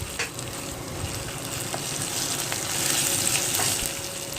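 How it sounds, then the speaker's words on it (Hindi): Garlic paste sizzles and crackles steadily in hot oil with onions in a pan, a dense continuous frying hiss with occasional stirring clicks, made while cooking a masala fish curry. "अब मैं इसमें ये लहसुन का पेस्ट डाल रही हूँ। लहसुन को हम थोड़ी सी देर के लिए भून लेंगे।"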